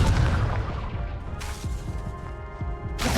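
A Confringo spell blast in Hogwarts Legacy lands as a sharp explosive crash followed by a booming rumble, with a second impact near the end, moderately loud and with no talking.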